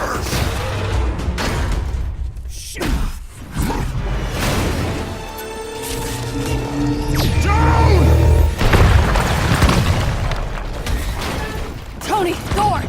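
Battle in the Marvel's Avengers video game, with pulsar tanks firing amid booms, crashes and mechanical whooshes, loud and continuous, mixed with in-game voices and music tones.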